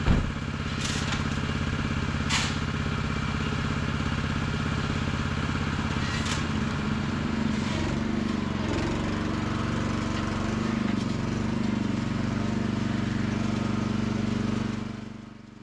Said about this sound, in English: Some people refer to these as powered wheel barrows, and other people might say they're mini dumpers